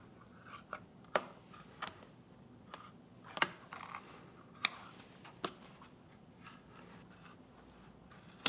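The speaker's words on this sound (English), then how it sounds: "we are going to start by carefully cutting away some of this larger Croc using this pair of" A pair of scissors cuts through a foam Croc shoe in a series of sharp, irregular snips, some crisp and close, others softer, over a quiet background with no talking.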